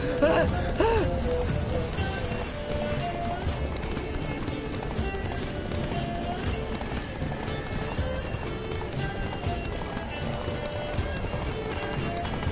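Hooves of Geralt's horse Roach clip-clop steadily at a gallop in The Witcher 3, a constant rhythmic beat under dense game music and ambience, with a brief gasp near the start.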